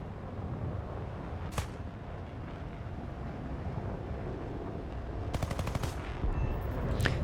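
Aircraft cannon fire from a Mystere IIA jet aimed at an F3D in a flight combat game: two short, rapid bursts of gunfire, one brief and one longer, faint against a steady wind-like engine roar, with no talk.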